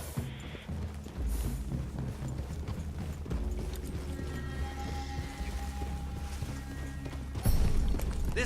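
Horse hooves clip-clop over steady low rumble in Red Dead Redemption 2, with several horses moving together through a forest clearing, mid-distance and partly masked by ambient game sound and a louder thump near the end.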